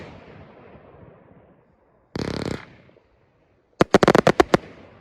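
The Dark Spirits firework by Prestigious Pyrotechnics goes off outdoors in the UK with a fading rumble and a sharp hissing burst. A rapid cluster of loud crackling bangs follows, close and crisp.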